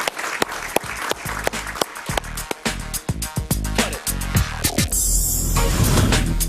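Studio audience applause on a Spanish-language television talk show, a dense, loud, steady clapping that fills the whole stretch with a few sharp claps standing out.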